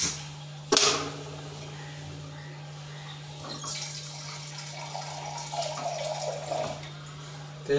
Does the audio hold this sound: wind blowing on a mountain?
no